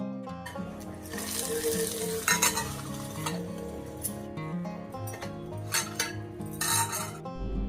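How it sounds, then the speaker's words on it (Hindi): Spices and curry leaves crackle and sizzle in hot oil close by, with a spoon stirring and clinking against the pan in bursts. "और अब लगाऊंगी छौंका।"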